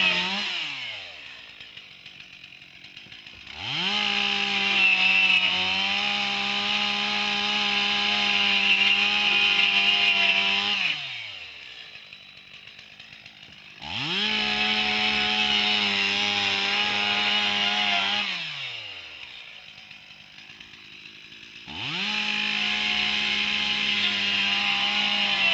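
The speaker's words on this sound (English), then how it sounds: "The lead hook directs the lead saw to cut a heat hole using the 5-cut center rafter" A power saw cuts a heat hole in a commercial roof for firefighter vertical ventilation, using the five-cut center rafter louver method. Three loud, close bursts of the engine straining under load are separated by quieter idling pauses, with no talk.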